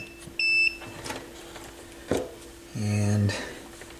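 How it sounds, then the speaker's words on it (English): A multimeter continuity tester checks a filament bulb during a Technics SL-23 turntable repair, giving a short, clear electronic beep and later a brief, buzzier tone amid quiet handling noise. "And I should get a beep."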